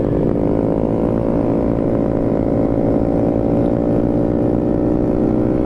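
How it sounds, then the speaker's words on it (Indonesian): A motorcycle fitted with a new Embus aftermarket exhaust runs loud and close, a continuous raspy, buzzing drone with a slight rise in pitch, steady throughout with no talk. "Ayo Jod pakai embus tapi agak keluar banget ya knalpotnya ya."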